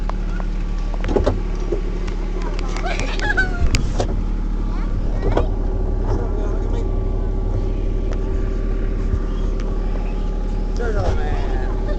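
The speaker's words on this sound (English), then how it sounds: "we're riding a tractor" Tractor engine pulling a festive cart ride, a steady low motor drone throughout with rattles and bumps, while several people talk over it.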